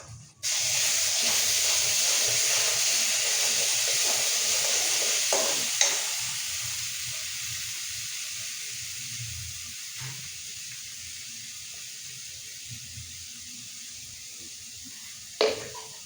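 Spinach and tomato paste drop into a hot pan and burst into a loud, hissing sizzle that slowly fades to a softer fry, with a few brief clinks of utensils near the end.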